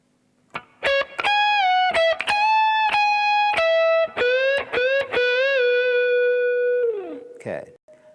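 Distorted electric rock guitar plays a solo phrase of picked notes with full-step and half-step string bends, sustaining and sliding before a final bent note trails off; loud, close and alone.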